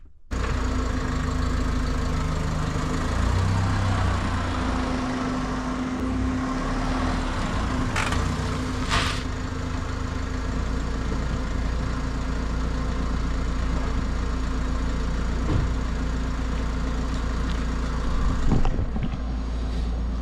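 A car driven along while being slowed with only the hand brake, its engine humming steadily and continuously up close with a faint rumble, a couple of brief knocks midway and a small rise near the end.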